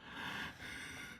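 Heavy breathing close to a microphone: two long, loud, breathy exhalations with a brief pause between them, alone without talk.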